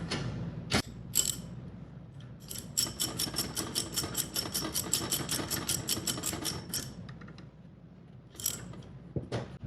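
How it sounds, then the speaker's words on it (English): A socket wrench ratchets while tightening a vacuum breaker on a machine: a quick run of sharp, even clicks, close and fairly quiet, with a few isolated clacks before and after. "use your socket wrench to fully tighten it down."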